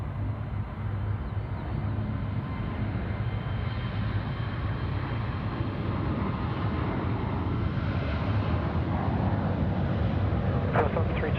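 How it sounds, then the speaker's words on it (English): Air New Zealand flight 102 takes off from Sydney Airport for Auckland, its jet engines giving a steady, loud, wideband roar that holds evenly for about eleven seconds. "New Zealand 102, and they're going to be taking off to Auckland"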